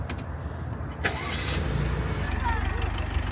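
A new car's engine cranks and catches about a second in, then settles into a steady idle, with a voice talking close by.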